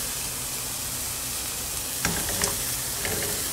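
Lamb frying in a pan for Indian-style lamb wraps gives a steady, loud sizzle, with a few brief clinks and stirring sounds partway through.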